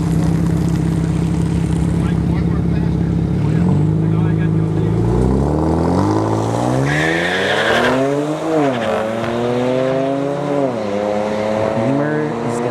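Engines roar loudly at a drag strip as cars do burnouts, revs climbing and dropping in sweeping waves, with tire squeal and a dense rumbling drone throughout.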